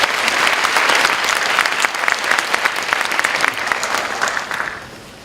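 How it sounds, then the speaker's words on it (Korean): Warm applause from a church congregation at a Sunday service welcoming new university students, dense sustained clapping that swells then fades out near the end, with no talk over it. "우리 박수 한번 부탁드리겠습니다"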